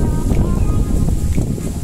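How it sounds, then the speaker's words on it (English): Steady wind at a beach resort in Zamboanguita, Philippines, buffets the microphone in a continuous low rumble, with faint background noise and no clear voices. "It's kind of windy today, but we resist."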